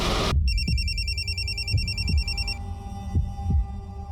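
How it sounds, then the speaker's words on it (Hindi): A phone rings with a bright, warbling electronic tone for about two seconds and then stops, while low dull thumps pulse steadily underneath. "ये फोन किसका बज रहा है?"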